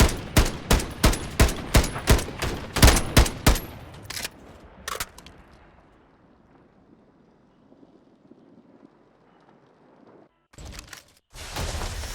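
Rapid bursts of gunfire in Warzone crack out in a quick rhythmic string of loud shots, then fade into windy quiet before two more heavy bursts near the end.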